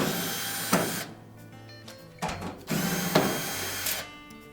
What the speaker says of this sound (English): We'll start by taking these two short screws out on the bottom.